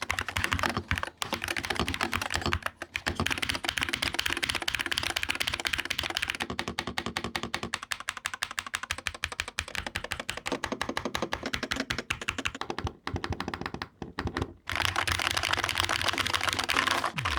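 Typing on an Attack Shark X65 PRO HE keyboard with tray mount and aluminum plate: a rapid, continuous run of close, crisp keystrokes with a slightly pingy ring, broken by a few short pauses, with no talking.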